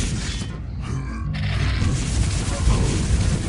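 A Quake Live match at a LAN tournament fills with dense crashing booms of rocket blasts and weapon noise, loud and continuous over a few seconds, with faint talk underneath.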